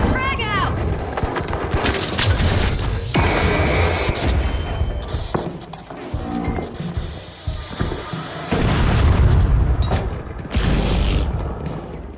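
A frag grenade goes off in The Finals video game: loud booming blasts and crashing debris mixed with scattered gunfire, with a heavy explosion late in the clip and game voices around it.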